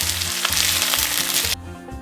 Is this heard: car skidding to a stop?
no